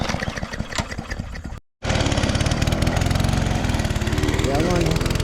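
A gas lawn mower in a Jamaican yard with thick grass cranks with a rough, loud rumble, cuts out for a moment, then catches and runs at a steady, close, buzzing drone.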